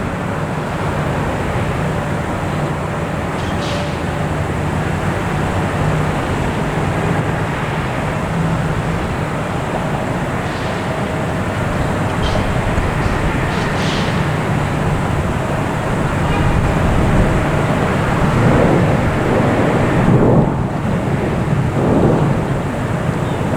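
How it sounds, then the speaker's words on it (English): A small airplane passes at Boston Logan Airport, a loud, steady roar of engine noise that holds for more than twenty seconds and swells slightly toward the end, with no voices. "That plane had the most noise. It was the smallest one."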